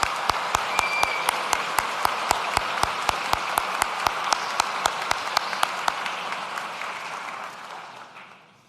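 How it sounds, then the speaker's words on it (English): The audience at a school graduation ceremony breaks into applause. Steady clapping from many hands runs throughout, with one close clapper keeping an even beat, before it fades away at the end. "Please join me in a round of applause"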